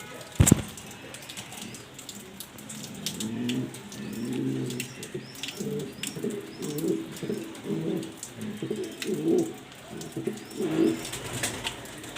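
Black pigeons coo in soft, repeated rolling phrases at close range, one bird after another, with a sharp click near the start.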